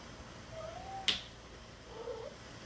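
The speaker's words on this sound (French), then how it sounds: "Je dis oui parce que mon chat miaule." A house cat meows indoors, a faint drawn-out call followed by a sharp click and a second soft meow, heard alone over quiet room noise.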